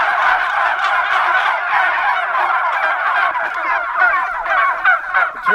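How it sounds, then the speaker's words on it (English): A flock of turkeys gobbling continuously, a dense overlapping chorus of warbling calls, loud and close with no talk. "These turkeys will eat all this grit today."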